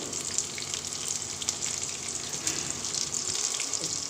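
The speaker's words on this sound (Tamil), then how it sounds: "வெங்காயம் நல்லா ஃப்ரை ஆகிற வரைக்கும் வெயிட் பண்ணலாம்" Onions frying in oil with garlic and ginger for chilli idly give a steady, close hiss and sizzle that runs unbroken throughout, with no talking.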